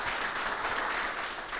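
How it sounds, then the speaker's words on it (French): A burst of applause from a crowd, dense steady clapping that fills the space and carries on evenly throughout. "On peut l'applaudir aussi très très fort."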